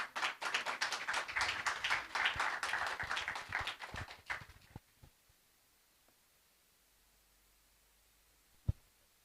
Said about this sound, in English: Can we welcome her with a round of applause?